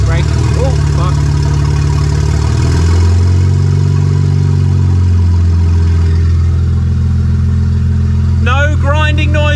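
A BMW N54 engine, a DIY forged build, runs loud and close through an aftermarket exhaust, idling and swelling around 500 RPM with an uneven tone, while a person talks over it.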